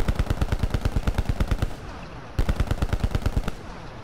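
Rapid automatic gunfire from a Call of Duty zombies video game, loud and close, in two long bursts of evenly spaced shots with a brief lull between them.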